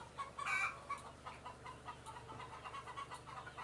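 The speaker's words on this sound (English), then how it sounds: "The chickens also help clean up all of the feed that the horses waste." Free-range hens cluck and murmur faintly around a hen house, with one louder squawk near the start, then a steady scatter of soft clucks.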